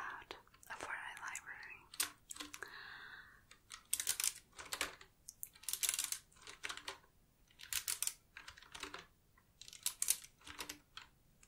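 Close, crisp clacking keystrokes on a Qwerkywriter S typewriter-style keyboard, typed in irregular bursts with brief pauses between, with soft whispering near the start.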